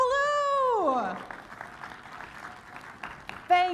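Applause from a conference audience after an introduction, a scattered clatter of clapping that follows a short stretch of talk and trails off, with a voice returning at the end.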